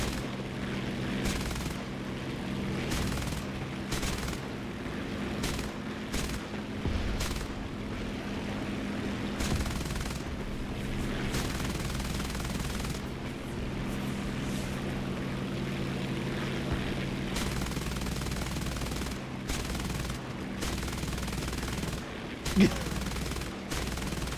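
Aircraft machine guns in War Thunder firing in long, repeated bursts over a steady propeller engine drone, loud and sustained, with brief gaps between volleys and no talk over it.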